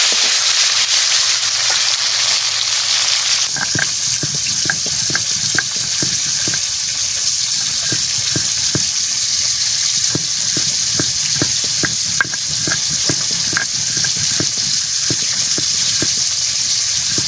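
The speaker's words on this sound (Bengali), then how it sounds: "গরম হয়ে গেছে, আমি মাছ ভাজা বসাই দিচ্ছি।" Tilapia fish drops into hot oil in a kadai. A steady, loud hiss of frying runs under sharp crackles and spits that come thick and irregular from close by.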